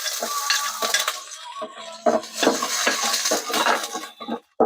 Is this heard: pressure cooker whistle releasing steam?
no